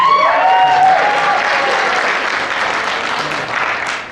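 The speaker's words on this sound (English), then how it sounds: "Let's make some applause for the vets." Comedy club audience gives brisk applause for military veterans, a full burst of clapping with a few whoops at the start, tapering off over about four seconds.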